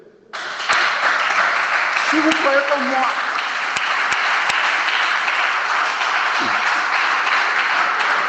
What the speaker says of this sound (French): Si vous croyez, applaudissez le Seigneur.